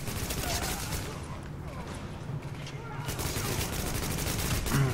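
Sustained automatic gunfire in Tom Clancy's The Division, dense rapid bursts of shots filling the whole stretch with a brief lull in the middle, loud and close.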